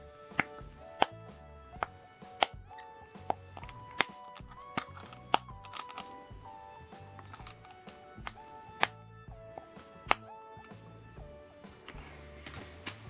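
Plastic fidget toys clicked and snapped by hand, a string of sharp, close clicks and pops at an uneven rhythm, with faint ticking textures between the louder snaps and no talking.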